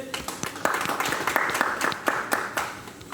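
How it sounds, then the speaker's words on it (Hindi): Applause for a little girl at a Hindi-speaking community gathering on mental health and yoga, with scattered claps ringing out over a steady crowd patter, fairly close and moderately loud. "छोटी सी बिटिया के लिए एक जोरदार ताली बजाइए"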